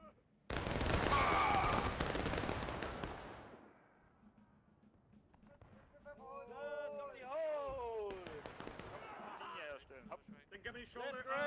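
A massed musket volley in the War of Rights game erupts as one loud, ragged crash that rolls on for a few seconds, followed by shouted commands and scattered later shots.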